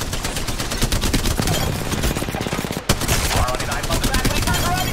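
Rapid automatic gunfire in a competitive shooter game, dense fast bursts with a brief break before firing resumes, loud and continuous throughout.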